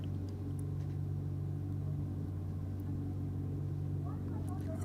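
A BMW race car running down a drag strip, a steady low engine rumble heard from a distance under continuous announcer commentary.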